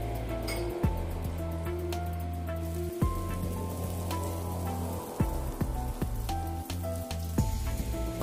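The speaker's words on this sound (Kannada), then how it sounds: "ಸೊ ಇಷ್ಟು ಹಾಕ್ಕೊಂಡು ನಾನು ಫ್ರೈ ಮಾಡ್ತೀನಿ." Chana dal and green chillies frying in oil in a pan, a steady close sizzle throughout with occasional clinks and spoon scrapes against the pan.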